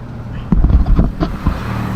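Road traffic near a seaside cemetery in Oslob, Cebu, with a vehicle passing close by as a loud low whoosh and rumble that swells suddenly, then eases off into windy background noise.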